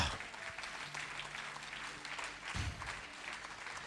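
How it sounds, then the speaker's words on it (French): Faint, steady applause from a church congregation continues for several seconds with a low murmur of voices beneath it. "Applaudissez Jésus-Christ."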